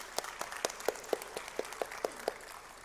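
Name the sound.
audience applause for conference delegates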